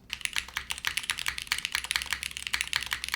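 Fast, steady typing on a Mode SixtyFive keyboard fitted with Cherry switches and a PC plate, crisp close-up clacks in a rapid irregular stream with no talking.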